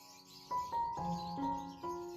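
Lovebirds in a balcony bird setup chirp in a series of short, bright, tonal calls that overlap one another, close by and moderately loud against a quiet background.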